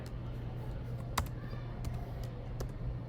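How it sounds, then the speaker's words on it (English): A few faint, irregular keystrokes on a computer keyboard while HTML code is entered, sparse soft clicks over a steady low hum. "for me, I can just start typing"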